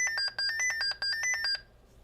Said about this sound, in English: It's powering on, it's pulling current, and it's beeping at me.